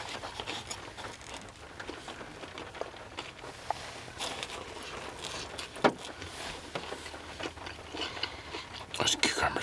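Crunchy cucumbers in a Subway power bowl being chewed close to the mic, irregular soft crunches and mouth clicks over several seconds, with faint whispery breaths and a quiet background hum.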